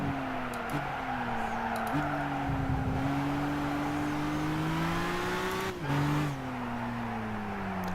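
A race car engine in Gran Turismo at GT Academy 2013 practice, a steady droning note that shifts as the car goes through the gears and brakes into a corner, loud and continuous with no talking.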